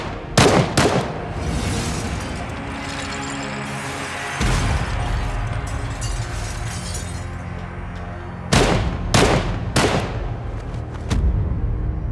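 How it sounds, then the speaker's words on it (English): Gunmen bursting in and opening fire: sharp loud bursts of shots near the start, a dense roaring stretch in the middle, then several more separate close blasts toward the end. "Without warning, four gunmen burst in and begin shooting."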